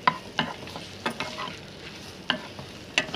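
Coarsely chopped ingredients sautéed and mixed in a pan with no oil, producing a few distinct spatula scrapes and clacks over a soft sizzle, close and brief, without speech.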